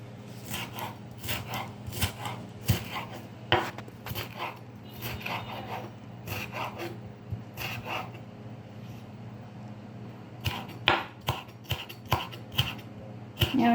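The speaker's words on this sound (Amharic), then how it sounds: "ቲማቲሙንም እንደዚህ እከትፈዋለሁኝ።" Knife chopping tomatoes for tabbouleh salad on a cutting board, a run of quick sharp taps in irregular bursts, close and fairly loud, with brief pauses between.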